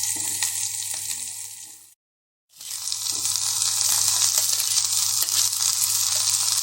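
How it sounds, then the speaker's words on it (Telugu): Cut ridge gourd pieces added to green chillies frying in hot oil give a loud, steady crackling sizzle close by, cut by a short moment of silence before the frying resumes just as strongly. "పచ్చిమిర్చి ఫ్రై అయ్యాక బీరకాయ ముక్కలు, కట్ చేసిన బీరకాయ ముక్కలు వేసుకోవాలి"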